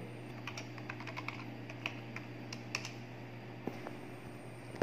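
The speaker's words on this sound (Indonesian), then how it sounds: "Jadi kita ketikkan password dari komputer yang tadi itu ya." Rapid keystrokes on a computer keyboard as a password is entered, a close, quiet run of irregular clicking taps with no voices.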